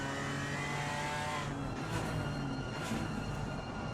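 GT4 race cars lapping Misano in a racing video game, an Alpine pulling away from a Porsche: a continuous dense engine drone with layered revving tones and faint swells, steady and loud without talk.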